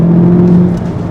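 A Volkswagen Golf GTI 7.5 with a loaded boot accelerates along a road in Hong Kong, its engine giving a steady, loud droning hum heard close from inside the cabin.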